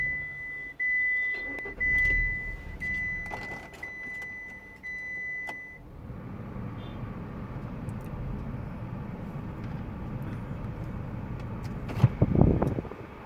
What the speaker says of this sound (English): So I'll just start the car.